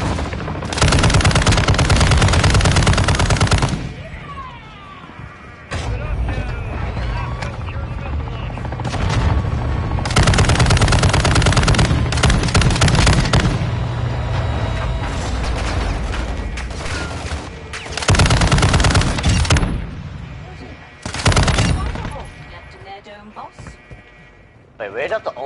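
Sustained bursts of LMG machine gun fire in the Call of Duty Warzone video game, long loud rattling volleys with brief gaps between them, dense and close with heavy game effects underneath.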